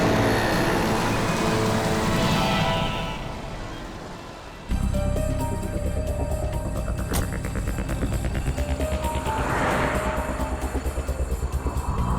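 A car drives along a road while following another car, with a continuous loud engine and tyre rumble mixed with traffic noise, dipping briefly midway before returning at full strength.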